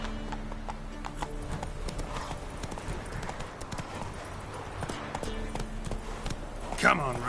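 Roach, Geralt's horse in The Witcher 3: Wild Hunt, gallops with a steady, close rhythm of hoofbeats. A short whinny rises near the end, and speech can be heard in the clip.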